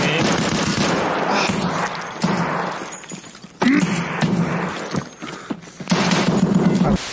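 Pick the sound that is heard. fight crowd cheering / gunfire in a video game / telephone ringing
gunfire in a video game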